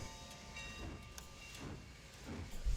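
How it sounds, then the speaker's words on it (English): A train arriving in the city-building video game Kapital: Sparks of Revolution, a soft rolling rumble with faint clicking, steady and fairly quiet, no talking. "Oh yeah, the train is here."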